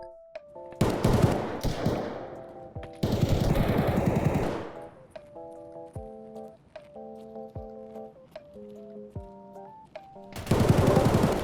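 Bursts of rapid suppressed and unsuppressed gunfire in Escape from Tarkov crackle in short volleys, separated by stretches of quieter tonal music and sharp clicks.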